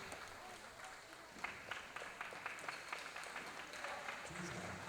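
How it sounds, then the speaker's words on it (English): Fans at a summer league basketball championship game give scattered, moderately distant applause that swells and fades against a noisy gym background. "Nice round of applause by the fans here."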